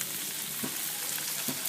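Ginger garlic paste fries in hot oil in a wok, a steady close sizzle with two faint soft bumps, no voices.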